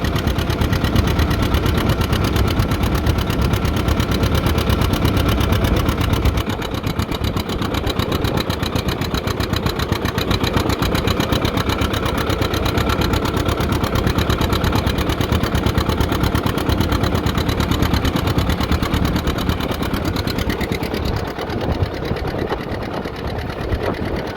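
A John Deere 70 tractor engine runs flat out at full throttle in third gear while plowing, a loud, steady, continuous mechanical drone that holds level throughout with no pauses and no voices.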